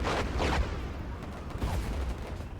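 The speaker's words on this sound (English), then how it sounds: "A lot of artillery and stuff going down." Artillery and small-arms fire from a World War 1 flash game roll together in a dense, muffled barrage, with overlapping booms and rattling shots that keep a steady, loud din throughout.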